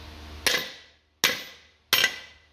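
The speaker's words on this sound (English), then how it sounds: "you just get a good size hammer" A good size hammer strikes the front axle hub of a 1st gen Cummins truck three times, each sharp metallic blow ringing briefly and fading before the next, close and fairly quiet, with no talk.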